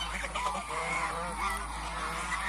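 Goose goslings call repeatedly in a close, busy chorus of overlapping, slightly honking peeps over a low background hum.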